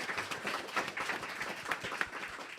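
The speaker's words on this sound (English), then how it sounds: "Give us a round of applause." A studio audience at a live science show in the Cambridge Science Centre applauds, a dense steady wash of many hands clapping at moderate volume throughout with no talk over it.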